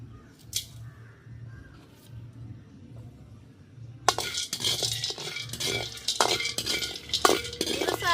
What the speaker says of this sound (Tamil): மஞ்சளை போட்டு வறுப்போம்